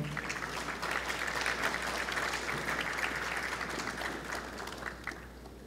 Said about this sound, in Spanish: Para nosotros es un gusto recibir con un cálido aplauso al señor Tomás Delgado.